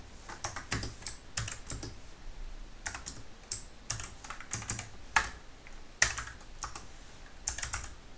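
Fingers type Python code on a computer keyboard in irregular runs of crisp, close key clicks with short pauses and a few harder taps, heard on its own without talking.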